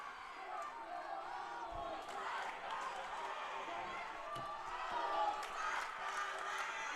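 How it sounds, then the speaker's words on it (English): Fans at a Lynn vs. FAU game chanting their team's name, a distant, steady roar of massed voices filling the arena, swelling slightly toward the end with scattered thumps beneath. "The crowd chanting their team's name"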